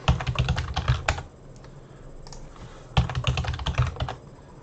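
Two bursts of rapid typing on a computer keyboard while entering a password, close and crisp, separated by a quieter pause with a few isolated key taps.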